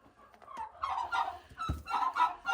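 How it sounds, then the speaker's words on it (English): Turkey poking around inside a chicken coop on a farm, giving a few close, throaty gobbling and clucking calls in short bursts, with one sharp low thump partway through and no talking. "Turkey, what are you doing in here?"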